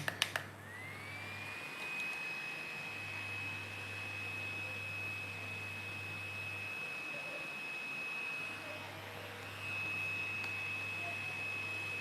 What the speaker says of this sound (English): Then I use my fan to dry that in.